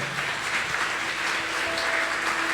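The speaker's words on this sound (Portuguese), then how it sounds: "Vamos aplaudir Jesus em forte" A church congregation claps together during a Sunday service, a continuous, fairly loud patter of many hands with a faint voice or tone lingering faintly beneath.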